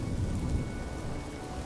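Steady heavy rain falling in a video game cutscene, a dense, constant wash of downpour with a low rumbling undertone, close and loud for the whole brief stretch.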